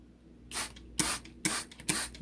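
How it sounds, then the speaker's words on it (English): Four quick hissing bursts from a spray bottle dousing a black cake with wine and cherry brandy, spaced roughly half a second apart, close and fairly quiet. "Spray it up, spray it up, spray it up, spray it up."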